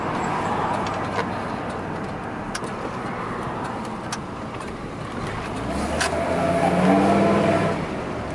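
A Dodge Ram V10 4x4 pickup truck drives and accelerates toward a supermarket parking lot, a steady engine drone with road noise rising into a louder surge near the end, heard from inside the cab with no talking.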